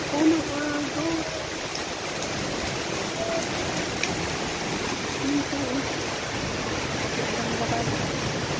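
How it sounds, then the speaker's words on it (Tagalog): A strong sea current rushes continuously with a dense, hissing roar during heavy rain, broken now and then by faint voices in the background. "Ang lakas po ng agos."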